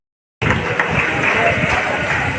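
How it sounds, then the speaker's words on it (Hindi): A crowd at a district election gathering in Ramgarh applauds for Khajauddin Ansari, with loud, dense clapping that starts abruptly and holds steady and close. "जोरदार ताली एक बार खजाउद्दीन अंसारी के लिए।"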